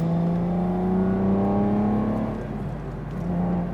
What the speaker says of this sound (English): This V12 engine is one of the best sounding engines ever made, ever.